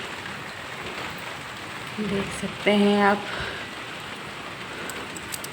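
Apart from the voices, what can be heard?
light drizzling rain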